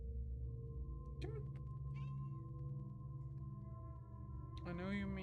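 A cat meowing, a couple of drawn-out wavering meows with one near the start and a louder one at the end, over a steady hum with a voice speaking faintly in the background.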